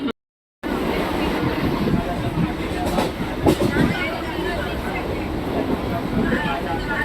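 A Mumbai local train heading toward Mira Road makes a continuous rumble with faint rattling, steady and loud from inside the carriage, with voices mixed in. A brief dropout interrupts the sound near the start.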